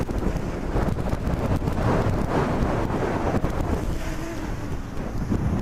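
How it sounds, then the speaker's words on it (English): Strong wind roars loud and steady against a small camera drone, an SG906 Beast Pro or Holy Stone HS720E, flying at full throttle into high wind over a field, broadband buffeting continuous from start to finish. "I'm trying to drive it into the wind"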